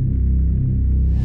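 A re-space transition effect in a dark FL Studio piano beat in the style of Yamê: a loud, steady low-pitched droning swell with a thin hiss rising at the end, alone and without voices.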